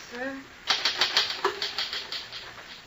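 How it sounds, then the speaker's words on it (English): Typewriter keys struck in a quick, even run of about a dozen sharp clacks, close and fairly loud in an office scene from a period radio drama, following a brief spoken fragment. "Finish typing it and I'll sign it."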